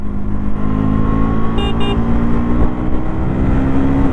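2025 KTM Duke 250 motorcycle engine pulling steadily under load, a loud continuous drone with a brief high whine near the middle as it runs through the gears.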